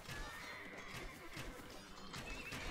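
Horses neigh and whinny in an Age of Empires 2 battle, with clashing impacts and a steady din of game combat sounds around them; no voices.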